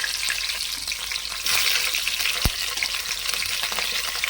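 Green chillies hit hot oil in a pan while cooking sambar with drumstick pieces, giving a loud broadband sizzle that surges around the drop and holds steady, with a sharp clink partway through and no voices.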